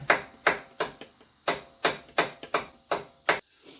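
A ball peen hammer pounding a rear crank case seal into a CF Moto engine, with about ten sharp metallic strikes at a fairly regular, slightly uneven pace, close and loud, with short ringing decays.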